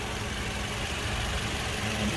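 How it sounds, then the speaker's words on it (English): A 2018 Toyota Yaris Ascent with its small motor idles steadily, heard close with the bonnet open: a smooth, even low hum that stays constant throughout. "just while that engine's running for us."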